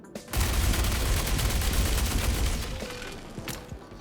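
A Fresnel Volt LMG in Star Citizen fires a sustained burst at an armored target with no heat applied, rapid energy shots merging into a loud, continuous roar that tapers off near the end.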